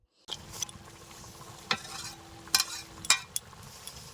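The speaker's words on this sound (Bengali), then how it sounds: "বড়িগুলো শাকের সাথে ভালোভাবে মিশিয়ে নিয়ে" Fried lentil dumplings being stirred into sautéed greens in a wok, a quiet sizzle broken by several sharp scraping clinks of a spatula against the pan.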